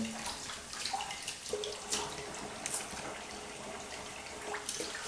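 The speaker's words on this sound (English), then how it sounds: "I'm going to empty the sink." Water runs and splashes steadily into a sink, a soft continuous gush with small gurgles as the basin drains.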